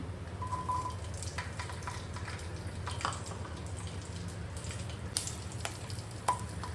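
Garlic and green chili frying in oil with cumin in a pan, a steady soft sizzle throughout, with a few light clinks from utensils and no talking.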